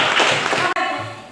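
Classroom applause for student groups after their presentations, a brief burst of many hands clapping that cuts sharply and then fades out.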